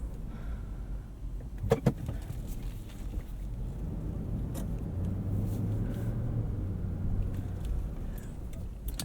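A 2012 Lexus GX 460 SUV cruises along a road with a low, steady rumble of engine and road noise from inside the cabin, a couple of faint clicks early on.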